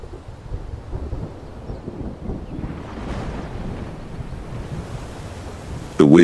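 Rumbling thunder from an approaching storm over the African savanna rolls low and steady with wind noise, ending in a sudden louder burst.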